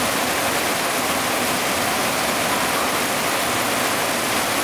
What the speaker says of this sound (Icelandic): Migandi rigning og fossar.